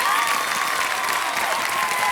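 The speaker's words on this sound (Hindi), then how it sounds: "जोरदार तालियों के साथ देवी संत स्वागत किया जाए।" A television game show studio audience breaks into loud, steady applause to welcome the actress Kajol on KBC, a dense wash of clapping from many hands with no voices on top.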